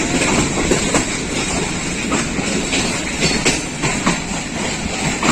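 The Allama Iqbal Express, a Pakistan Railways passenger train, rushes through a station, a steady loud rumble with rhythmic wheel clatter and faint squeal throughout, no voices.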